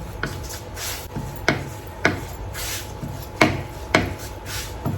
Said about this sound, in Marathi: आपण पटापट पटापट लाटून घेऊ